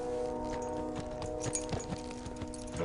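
Horses' hooves clip-clop in an irregular run of close, distinct strikes over a steady tonal music bed, with no talk.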